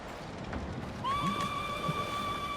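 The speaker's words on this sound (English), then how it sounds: "You look just like my father's horse." A horse in the video game Ghost of Tsushima lets out a clear, high whinny that rises and holds for over a second, following some faint shuffling and hoof movement in a quiet outdoor setting.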